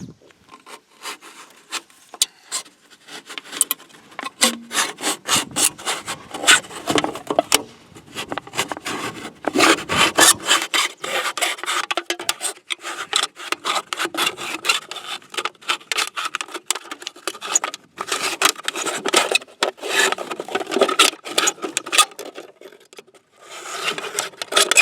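A Kizlyar D2 Survivalist X hollow-handled survival knife cuts through an empty metal can, giving a dense run of scraping, crackling rasps and short bursts that rise and fall over about twenty-five seconds, close up and with no talk.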